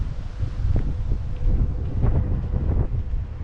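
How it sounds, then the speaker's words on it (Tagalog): Strong wind roars and buffets steadily across the microphone, loud and constant with no voices. "Ang lakas ang hangin."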